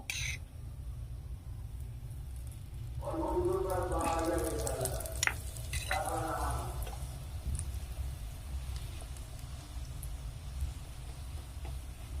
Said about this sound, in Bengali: এবার এখানে আমি সাদা তেল দেবো।